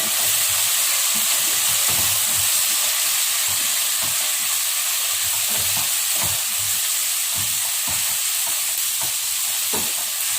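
Raw banana pieces fry in a pan with a steady loud sizzle and hiss, while a spoon stirs them with repeated scraping clicks throughout.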